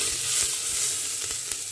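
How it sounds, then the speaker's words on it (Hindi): Cumin, garlic and onion sizzle in hot oil for a dal tadka, giving a loud, close, continuous crackling fry with light stirring noises and no talking. "तेल में जीरा डाल दिया, लहसुन डाल दिया और प्याज डाल दी।"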